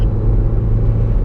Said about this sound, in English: Let's get this engine temperature up. I am in 3rd gear on a back road